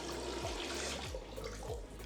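Water runs from a tap into a sink and drains through a freshly cleaned p-trap, a steady, close rushing flow with low gurgling pulses repeating every few tenths of a second.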